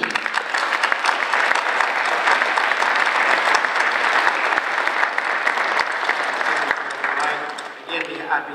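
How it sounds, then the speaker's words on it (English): A school board meeting audience breaks into sustained, dense applause that stays loud and even for about seven seconds before thinning out, with a voice briefly audible as it fades. "I'd like to applaud all of them again."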